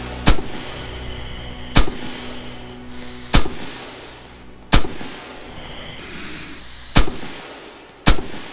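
Kar 98 bolt-action rifle fire in the Red Orchestra 2 Heroes of Stalingrad video game, six loud, sharp single shots spaced about one to one and a half seconds apart, with quieter clanks between.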